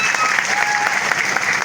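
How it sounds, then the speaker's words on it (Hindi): A gathered crowd at a Hindi-speaking community event claps briskly and evenly in honour of a courageous woman, a short, dense patter of hands with no pause. "आप उनका एक बार इनके साहस के लिए ताली बजा करके।"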